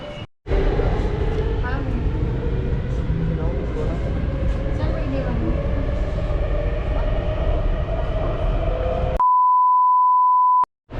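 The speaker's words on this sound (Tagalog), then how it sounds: "R4 sa R4 kami sasakay hintay lang yung train papunta doon" An R4 line commuter train rumbles loudly past, a dense rolling roar with rail squeals for about nine seconds, then cuts to a steady electronic beep tone; voices talk under the noise.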